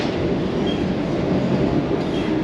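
Vande Bharat Express train in executive class gathering speed, a steady loud rumble of wheels and carriage noise with faint clickety-clack, heard from inside the coach.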